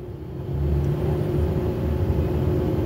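A city bus engine runs with a low, steady rumble and hum, close and loud, swelling a little after the first half second and then holding an even drone.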